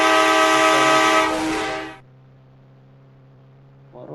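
A video game train's horn blares loud and sustained with a rich harmonic chord for about two seconds, then cuts off, leaving a low steady hum before a faint noise rises at the end.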